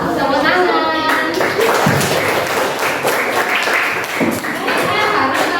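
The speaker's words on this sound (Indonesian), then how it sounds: "Tepuk tangan." Children in a classroom clap together in a loud, dense burst of applause that lasts several seconds, mixed with lively chatter.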